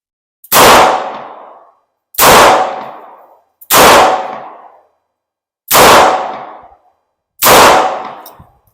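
Five loud, sharp .38 Special shots from a Model 10 snub-nose revolver at a shooting range, each a hard crack with a short ringing tail, spaced roughly one and a half seconds apart, with no talking.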